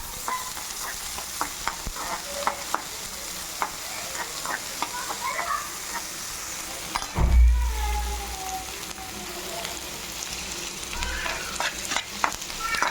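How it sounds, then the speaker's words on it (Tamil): Chopped onions with mustard and fennel seeds sauté in a pan for a Tamil dried-fish gravy, sizzling steadily close by with repeated scraping stirs and a brief louder clatter midway. "நல்லா வதக்கிங்க."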